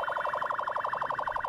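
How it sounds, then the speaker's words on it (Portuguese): An ambulance siren in the video game GTA wails in a fast, steady warbling cycle, fairly loud and constant, with no other sounds. "A ambulância do GTA Sander."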